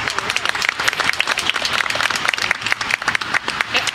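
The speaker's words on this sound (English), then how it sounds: "Let's give Sally a round of applause." Steady, loud applause from a sizeable crowd at a historical marker dedication, dense clapping filling the whole stretch without pause.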